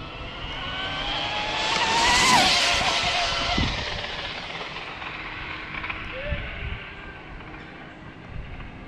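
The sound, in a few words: high-pitched squeal of a Hobao VTE2 RC car speed run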